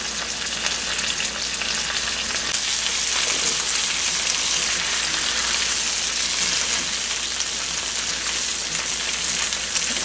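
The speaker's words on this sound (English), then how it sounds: "we've got our pork chops browning on both sides" Pork chops browning in a hot pan give off a loud, even, continuous sizzle with fine crackle, with no talking over it.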